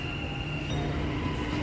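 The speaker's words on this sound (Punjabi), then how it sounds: "ਹੁਣ ਇਹ ਮੈਟਰੋ ਵੀ ਆ ਗਈ, ਦੇਖੋ ਮੈਟਰੋ ਵੀ ਆ ਗਈ ਹੈ।" A Dubai Metro train pulls into a station with a steady rumbling roar, a high whine and a thin wheel squeal partway through. No one speaks.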